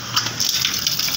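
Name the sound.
water poured onto a tomato plant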